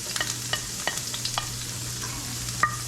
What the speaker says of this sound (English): we're gonna start off by sauteing the onions